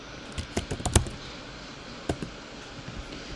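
Keys tapped on a computer keyboard in a short burst of quick, close clicks, a brief pause, then a few more keystrokes.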